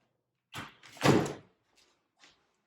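A bedroom door fitted with a mirror swings shut in a mobile home, a soft swish followed by a firm, close thud, then quiet with a couple of faint knocks.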